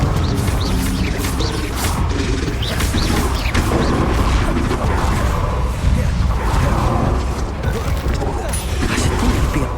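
Confringo and Bombardo spell blasts in Hogwarts Legacy crash and explode in a loud, dense barrage of repeated impacts and whooshes that fills the whole stretch without letup.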